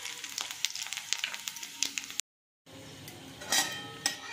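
Nigella seeds, a dried chili and cumin tempering in hot oil, with faint crackling sizzle and light utensil clinks, broken by a brief silent gap before the sizzle resumes.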